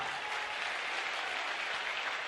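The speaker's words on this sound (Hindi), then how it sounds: "बिटिया के लिए खूब ताली बजाओ," A large crowd at a mass wedding ceremony for 121 brides at a religious gathering applauds steadily, a dense, even wash of clapping that holds at a constant level throughout without any voices standing out.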